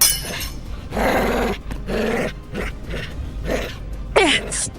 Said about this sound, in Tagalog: nataranta ang aso habang umaangil sa galit